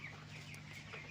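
Chickens clucking inside a poultry farm shed with automatic drinkers and feeders, a soft continuous chorus of many birds at a moderate distance, no voices.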